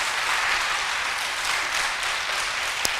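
A church congregation applauds during a Sunday service in Korea, a steady, dense clapping that holds evenly throughout, with one sharp louder clap near the end and no speech.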